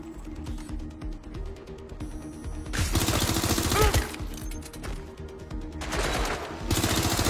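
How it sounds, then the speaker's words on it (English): Gunfire in the game Watch Dogs Legion, rapid automatic bursts of close, sharp shots arriving in several loud volleys, broken by quieter gaps with ambient city hum and brief voice calls. "Taking fire!"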